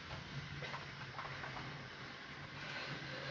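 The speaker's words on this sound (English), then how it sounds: "Got the S&DJ Argenti with a nice freight train." A model railway freight train, an S&DJ locomotive hauling a rake of wagons, runs steadily along the track with a continuous low rumble and faint rhythmic clicking, fairly close and alone.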